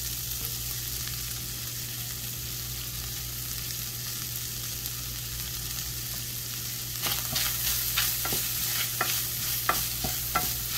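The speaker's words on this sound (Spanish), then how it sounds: "se fríe aquí con la cebolla y con el ajo" Corn kernels frying in a pan with onion and garlic give a steady sizzle, with stirring scrapes and clicks coming through more loudly toward the end.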